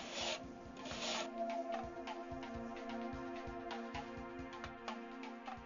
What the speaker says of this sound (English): as the mason keeps adding thick mortar to the uneven wall to give a smooth finish